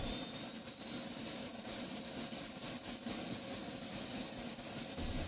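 An Indian Air Force helicopter sets down on a temporary helipad, its turbine whine and rotor roar forming a steady, dense wash of engine noise that stays constant and fairly distant, with no voices.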